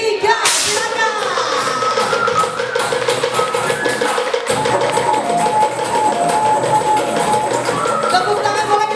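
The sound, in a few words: kentongan slit drums struck together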